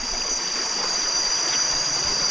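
A forest stream runs beside a jungle trail on the way to a waterfall, a steady, close rushing wash with a thin insect-like whine held high above it.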